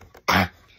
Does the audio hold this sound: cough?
yes